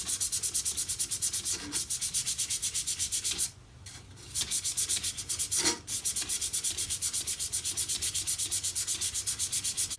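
A walnut pencil holder is hand-sanded with 120 grit sandpaper in fast, even back-and-forth strokes, a loud rhythmic scratching that breaks briefly twice before resuming.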